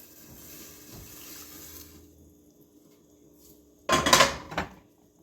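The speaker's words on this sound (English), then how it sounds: "I'm going to stir again" A quiet kitchen hum gives way to a short, bright clatter of a utensil scraping and knocking inside a pot of broccoli soup with vegetables and stock, lasting under a second with one smaller knock after.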